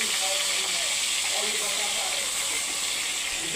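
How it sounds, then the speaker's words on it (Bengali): Fish frying in hot oil in a home kitchen, a steady bright hiss and sizzle running unbroken and fairly close throughout, with no talk over it. "মাছগুলো সব ভেজে নেবো"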